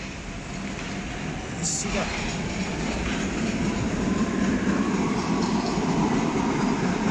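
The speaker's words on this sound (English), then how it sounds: "There's an old tram going." An old tram rolling past a garden, a steady rumbling rail noise building slightly louder over several seconds, with someone talking briefly over it.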